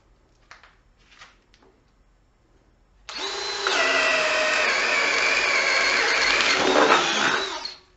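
After a few faint taps, a Ridgid subcompact cordless drill driver on a fully charged battery whirs up and drills steadily at high speed for about four seconds, then winds down and stops.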